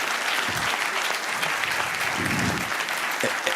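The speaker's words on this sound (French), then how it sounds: "on peut l'applaudir." Conference audience at a regional cooperatives congress applauds a speaker, a sustained dense clapping with brief low murmurs of voices underneath.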